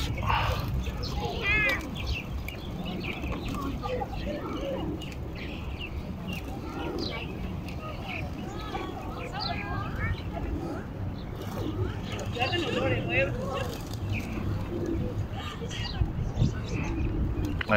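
A large flock of around a thousand doves at the Corniche waterfront in Doha, soft cooing and scattered chirps spread through a continuous outdoor ambience, with people talking nearby throughout.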